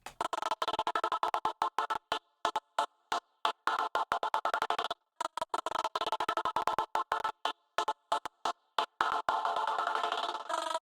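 Gated drum bus after a glue compressor, with the noise gate on a very fast attack: clipped, choppy hits with abrupt silences between them, loud and dry, no voices.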